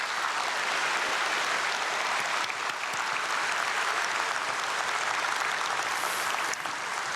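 A church congregation at a Korean dawn prayer service applauds in thanks for a visiting pastor from Sungan Church, a steady, dense wash of clapping that holds for the whole stretch without letting up.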